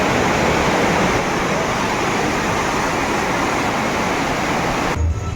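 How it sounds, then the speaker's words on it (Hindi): The flooding Pindar river roars as a dense, steady broadband rush, loud and close, with no talk over it until the sound cuts off near the end. "यहाँ से दिखाते हैं आपको पिंडर नदी का रौद्र रूप, कुछ ऐसा है।"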